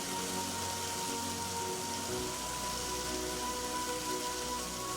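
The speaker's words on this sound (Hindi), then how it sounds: "बारिश बहुत तेज पड़ रही है" Heavy rain pours steadily in a dense, even wash of drops striking surfaces, loud and continuous throughout with no voices.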